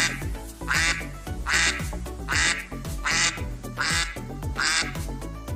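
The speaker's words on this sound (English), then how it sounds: "The sound of duck is." A duck quacks in a steady series of six loud, nasal calls at an even rhythm, each quack close and clear with no talking over it.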